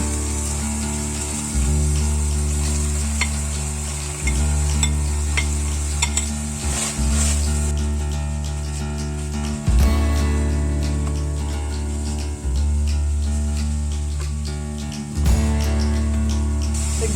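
Shiitake mushrooms fry in olive oil in a pan, giving a steady close sizzle broken by repeated stirring and scraping strokes every few seconds.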